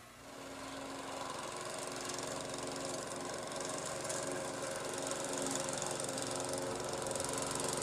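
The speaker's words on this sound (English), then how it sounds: "The power mower made the work easier" A power lawn mower runs steadily close by, its engine a loud continuous drone with a harmonic hum, holding level throughout with no talk.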